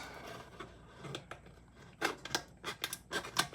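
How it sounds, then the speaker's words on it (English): Scissors cut through a metal coffee can in a series of sharp, close snips and crunches, sparse at first and then coming in a quicker run of loud bursts. "You stick your scissors right down in that hole."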